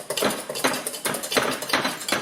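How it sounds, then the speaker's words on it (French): Béarnaise sauce being whisked briskly, a rapid rhythmic metallic clicking of the whisk against the pan in quick bursts, close and alone. "je vais continuer à battre"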